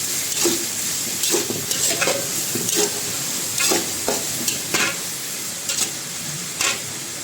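Tomato gravy sizzles and fries in a pan for chole pulao, with a spoon stirring and scraping against the metal in a loose rhythm of short knocks over a steady, close frying hiss.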